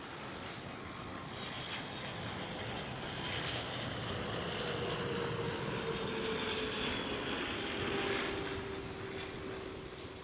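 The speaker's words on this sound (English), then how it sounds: "Qatari Cargo 777" Qatar Cargo Boeing 777 freighter passing near Amsterdam Schiphol, a steady broad roar of jet engines that swells gradually, then eases slightly toward the end.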